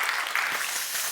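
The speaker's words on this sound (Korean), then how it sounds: "고마운 마음을 담아서 우리 박수 한번 하시겠습니다." A church congregation applauds at a Sunday worship service, a short, even wash of many hands clapping at moderate loudness with no speech over it.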